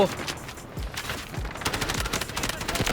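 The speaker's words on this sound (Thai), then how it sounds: "30 นัดยังยิงหมดอ่ะโคตรแรง" Rapid automatic fire from a 30-round gun in Delta Force, with dense repeated shots and heavy booms building toward the end, loud and continuous, and speech mixed in.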